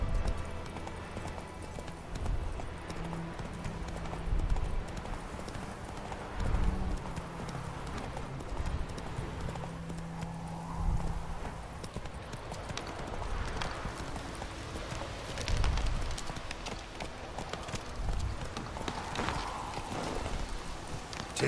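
A horse in The Witcher 3 gallops with a rapid, continuous clip-clop of hooves. A low rumble sits underneath, and the sound stays fairly near throughout with no talking.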